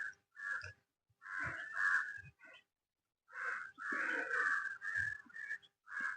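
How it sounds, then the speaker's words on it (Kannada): Several bird calls ring out in bursts of harsh, cawing and whistled notes, separated by short pauses, fairly close and clear against a quiet background, in natural surroundings at the Mallikarjuna temple in Mallapur, Bagalkot taluk, Karnataka. "ನಿಮಗೆ ಕೇಳ್ತಾ ಇರ್ಬೋದು, ಇಲ್ಲಿ ಸಾಕಷ್ಟು ಪಕ್ಷಿಗಳು ಸಹಿತ ವಾಸವಾಗಿದ್ದು"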